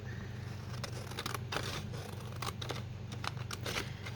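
Scissors snip repeatedly through paper while trimming pages for decorating an altered book, a quick run of close, crisp cuts over a steady low background hum.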